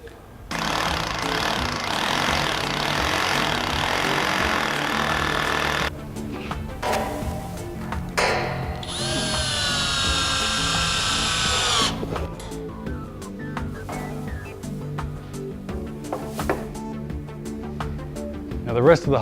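A power drill bores a hole into a wall for a wall plug while mounting a stainless steel metal pegboard storage panel; loud sustained drilling for several seconds, then pauses, tool handling and a brief high whine, close up.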